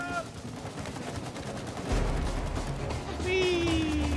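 Gunfire in the co-op video game It Takes Two crackles in a dense burst of shots, with game music and players talking over it.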